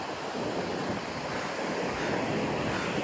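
Sea waves crash steadily on a shore beside a built sea wall, a continuous loud roar of surf with wind across the whole stretch.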